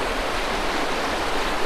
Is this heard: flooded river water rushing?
yes